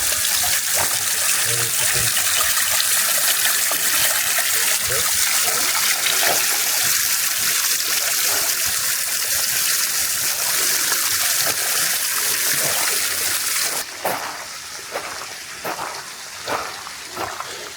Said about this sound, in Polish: Też fajnie woda wylatuje.